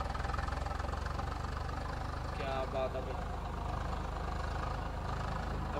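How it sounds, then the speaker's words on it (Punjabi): A tractor engine in Farming Simulator 22 idles with a low, steady throbbing rumble that stays constant throughout. "ਪਹੁੰਚ ਗਏ ਟਰੈਕਟਰ ਲੈ ਕੇ ਟਰੈਕਟਰ ਗੱਡੀਆਂ ਆ ਪਹੁੰਚ ਗਏ"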